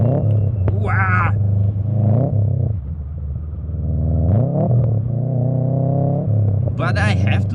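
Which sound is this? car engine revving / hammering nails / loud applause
car engine revving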